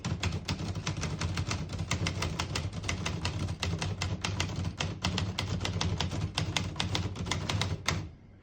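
Rapid, steady typing on a compact 1956 Smith-Corona Skyriter portable typewriter, a dense run of crisp key strikes close up for about eight seconds before stopping abruptly.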